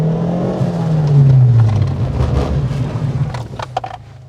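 A stunt car swings through a 180-degree turn and pulls up to a line, its engine droning and shifting pitch as it revs, with tyre and motor noise rising mid-turn then easing off as it settles.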